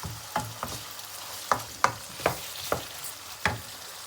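Chicken karahi being stirred in a pot, with a faint sizzle and a series of irregular scraping, knocking strokes of the spoon against the metal, about eight in four seconds.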